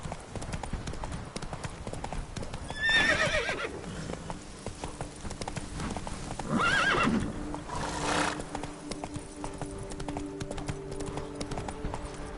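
The horse Roach from The Witcher 3 trots with steady clip-clopping hooves, breaking into a couple of distinct neighs and whinnies, fairly close and alone without talk.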